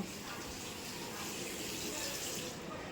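Tap water runs steadily into a sink during washing up, a continuous broadband rush that holds at an even level throughout with no pauses.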